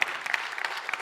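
An audience at an export conference claps in a thin, steady patter of quick overlapping hand claps, brief and moderately quiet, with no voices over it.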